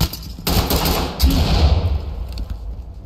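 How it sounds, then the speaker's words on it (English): A flashbang grenade detonates in the tactical shooter game Ready or Not: two sharp, loud blasts about a second apart, each followed by a rumbling, ringing decay. "Flashbang out."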